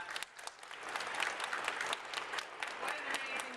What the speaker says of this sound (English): I want to start out by asking everybody to give Charlie Carr another round of applause.